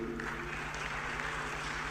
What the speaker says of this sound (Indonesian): Tepuk tangannya meriah.